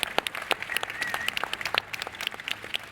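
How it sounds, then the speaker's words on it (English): Scattered applause from a modest audience honoring a panel at a Smart City Expo World Congress session in Barcelona, thin and uneven with distinct individual claps rather than a dense roar. "give a round of applause to our distinguished panel"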